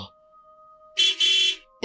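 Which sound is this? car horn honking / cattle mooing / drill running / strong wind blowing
car horn honking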